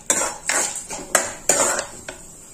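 Chana dal browning in a pan for chutney is stirred with a metal utensil: about six sharp scraping clacks against the pan at an uneven pace, each trailing into a soft frying hiss, with no talk.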